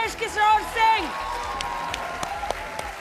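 A studio audience at a Hindi political poetry debate show applauds to welcome a guest, a steady wash of clapping under music and voices.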